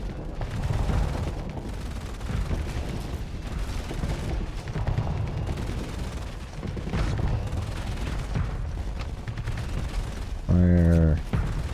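Spaceship weapons in the Starsector space combat game keep firing in a dense, steady rattle of rapid shots, with a sharper mechanical burst near the end and someone talking over it now and then.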